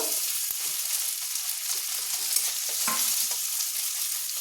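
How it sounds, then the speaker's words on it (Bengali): Rui fish frying in ground poppy seed paste gives a steady, close sizzle with occasional spatula scrapes and stirs throughout, no voices. "দিয়ে এবার পোস্তটা এর সাথে ভালো করে কষে নেব।"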